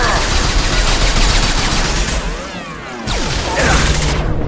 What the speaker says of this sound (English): Shoot them before they take out your shield. Taking fire.